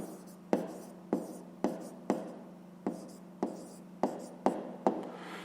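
Hand writing out a math answer, about ten sharp taps of a pen or pen on paper, each followed by brief scratchy strokes, close and quiet over a faint steady hum.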